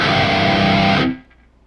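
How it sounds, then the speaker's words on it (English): A loud, heavily distorted electric guitar through the Archetype: Gojira plugin with the noise gate off chugs a dense, crushing rhythm, then cuts off abruptly into near silence with only a faint hiss left. "Loads of distortion when the gate's off."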